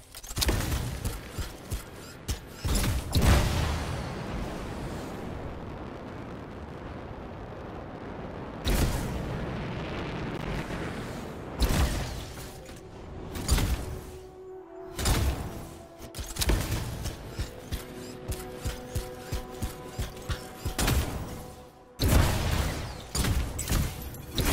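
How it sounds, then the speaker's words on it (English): Canisters blow up in the video game Anthem, with several heavy booming blasts and crackling bursts spread across the stretch, separated by quieter rumbling gaps. "It'll be a contained explosion."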